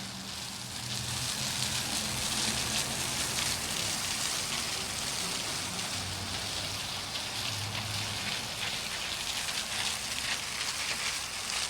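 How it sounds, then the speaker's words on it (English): Outdoor water fountains in Vernal, Utah, running hard, producing a steady, loud broadband rush and splash of falling water that continues unbroken throughout, with no talk over it. "That's a lot of water shooting out of there."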